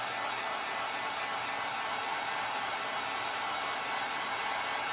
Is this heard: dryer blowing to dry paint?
yes